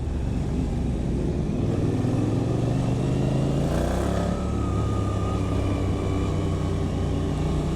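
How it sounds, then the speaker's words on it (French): A Ducati Monster motorcycle fitted with a Termignoni exhaust passes by: a steady engine drone rises in pitch and swells to a peak near the middle, then fades off under continuous road and wind noise. "Une belle butte du Ducati Monster avec un petit échappement Terminioni"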